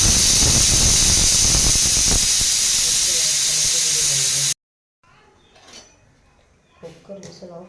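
A pressure cooker whistle releases steam in a loud, sustained hiss while cooking rice, cutting off abruptly, followed by quiet kitchen clatter and faint movement.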